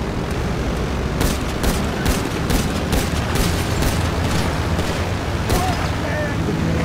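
Gunfire in GTA 5, with sharp, repeated shots and booming blasts over a loud, steady background. The shots come at irregular intervals, and a voice talks over them at times.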